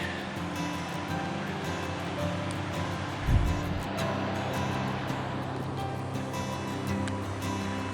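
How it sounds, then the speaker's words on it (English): The Middle Fork Blacks Fork flows below a mountain trail, a continuous distant broadband rush of running water, with one brief low thump near the middle. "There's the river down there."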